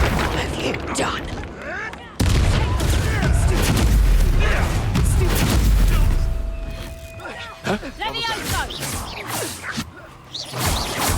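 Explosions and magical blasts in Hogwarts Legacy, loud booms and crashing bursts over busy game action, with a sudden heavy impact and several more sharp hits later, mixed with voices talking.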